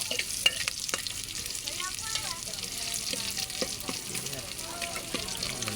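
Crab stir-fried in boiling oil, with a continuous crackling sizzle and scraping stirring strokes, heard close and steady throughout.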